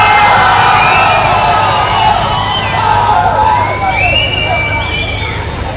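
A large crowd cheering and shouting at an outdoor political campaign rally in Tamil Nadu, a loud dense roar of voices with whistles rising over it, close and continuous throughout.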